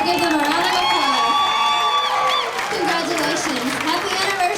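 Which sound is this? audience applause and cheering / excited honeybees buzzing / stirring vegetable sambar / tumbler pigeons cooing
audience applause and cheering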